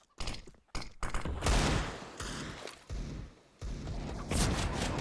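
Pistol gunfire in a Counter-Strike match on the Inferno map, with sharp bursts of shots and thuds breaking out repeatedly between short quiet gaps, loud and close.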